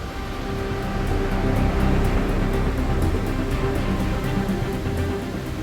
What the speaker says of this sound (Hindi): पास में बह रही है काली नदी